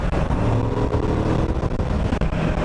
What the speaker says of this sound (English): when you let off the throttle, the deep rumble from underneath the back, the exhausts